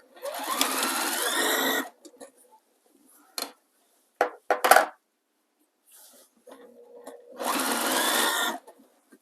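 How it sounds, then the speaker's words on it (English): Sewing machine top stitching a folded seam on a bulky fabric machine cover, with two long steady whirring runs at the start and end, separated by short bursts and clicks of handling, close and fairly loud. "then we'll fold over and stitch it, top stitch it"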